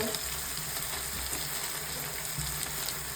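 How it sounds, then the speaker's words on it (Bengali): Spice masala with salt, turmeric and ground coriander sautéing in a pan for dried fish curry gives a steady, close sizzle that holds evenly throughout with no talk over it. "জিরের গুঁড়ো দিয়ে ভালো করে মশলাটাকে কষিয়ে নেব।"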